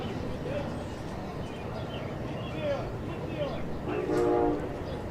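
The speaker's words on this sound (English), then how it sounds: "You hear that train horn." A passing Amtrak train sounds a horn on the railway beyond left field at a night baseball game, with a faint distant blast under steady crowd noise and a commentator's voice.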